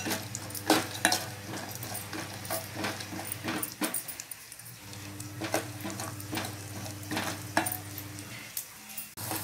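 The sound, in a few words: lentils frying in oil and ghee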